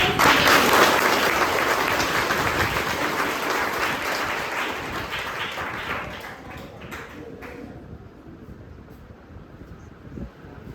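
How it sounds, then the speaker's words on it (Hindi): Students at a government school seminar in Gaya applaud loudly, a dense crowd of clapping hands that gradually fades and thins out toward the end, leaving scattered claps and room noise. "तो एक बार जोरदार तालियों से"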